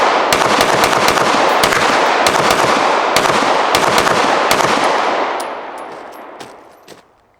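A Ruger RXM modular pistol is fired through a full magazine: a loud, rapid string of closely spaced gunshots lasting about five seconds, then the echoes fade away.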